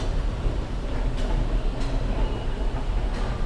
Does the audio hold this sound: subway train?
yes